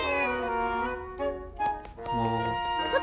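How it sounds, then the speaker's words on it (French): A small cat meows in Zelda: Echoes of Wisdom, a few short tonal calls rising over steady game music that carries on throughout, the meows close and clear but partly blended into the score. "Tiens, il y a un petit chat ici."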